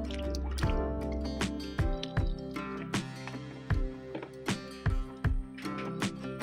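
Coconut milk poured from a small carton into a pot of pumpkin dessert with pandan leaves, giving irregular wet drips, glugs and splashes against a faint tonal background hum.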